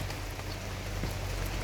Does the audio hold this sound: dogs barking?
no